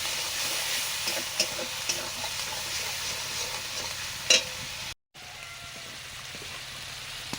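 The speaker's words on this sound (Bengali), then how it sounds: "পেঁয়াজ বাটা, হলুদ দিয়ে দিচ্ছি, তেলটা ছিটকে আসে না।" Onion paste and turmeric fry in oil for an egg curry, with a continuous close sizzle and frequent scraping stirs, and a brief sharper clatter partway through.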